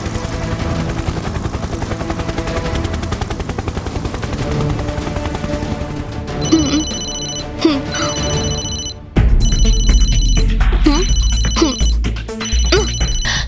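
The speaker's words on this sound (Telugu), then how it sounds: "ఈ ఫోన్కి ఎవరో కాల్ చేస్తున్నారు." A mobile phone rings in repeated electronic bursts over a loud, rumbling background, growing more prominent toward the end, in a Telugu kids' cartoon.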